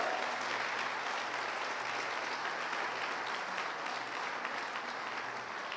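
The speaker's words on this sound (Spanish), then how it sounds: "Denles aplauso fuerte al Rey" An audience applauding in a church service, steady sustained clapping from many hands filling the space at even loudness throughout.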